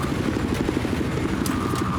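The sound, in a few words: helicopter in Battlefield 4 video game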